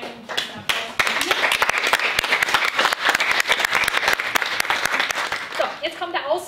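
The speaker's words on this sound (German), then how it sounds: "einen guten Applaus." An audience claps at a panel discussion: quick, sharp hand claps start after a brief pause, then swell into close, busy applause that carries on steadily before tapering toward the end.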